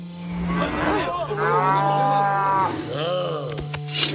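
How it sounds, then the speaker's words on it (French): A herd of cartoon cows in a Zorro animated series gives several long, loud moos that overlap one another, backed by a low steady drone. "On a juste encerclé un troupeau de vaches, commandant."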